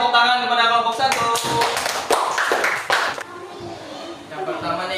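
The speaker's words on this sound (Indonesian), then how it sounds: "beri tepuk tangan kepada kelompok 1" Children in a classroom clap together for a group of classmates in a short burst of uneven claps, while a teacher and kids talk over and around it.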